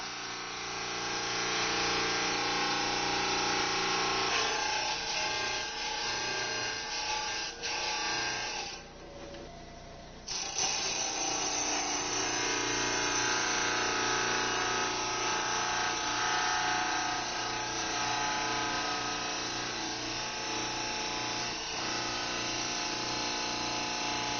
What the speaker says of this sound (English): You can see that I'm cutting slower than I did with the obsidian.